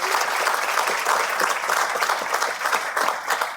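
An audience at a city's State of the City address claps steadily in dense, sustained applause, indoors and fairly close, with no speech over it.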